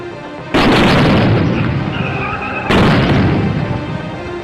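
Two loud, close controlled blasts set off near a VIP car during CISF security training, each a sudden boom followed by a long, rough, rumbling decay, the second about two seconds after the first.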